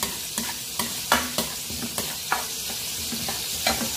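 Galunggong fish frying in a pan: constant bright sizzling of hot oil with repeated soft scrapes and taps of a utensil stirring, close and alone.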